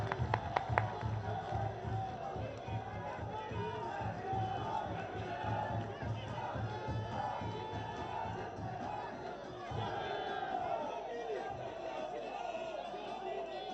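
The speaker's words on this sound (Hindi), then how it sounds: "तालियों के द्वारा मित्रों।" Large crowd at a BJP victory rally celebrating election wins in Bihar, cheering and clapping continuously, with a dense roar of voices and some shouts throughout, a few louder claps near the start.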